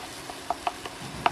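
Masala cooks in a pan and is stirred with a utensil, producing a few sharp scraping clicks at irregular intervals over a faint sizzle, close and without voices.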